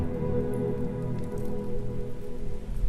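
Heavy rain falling at night beats steadily on a surface, a dense close patter of drops that stays even throughout with no voices.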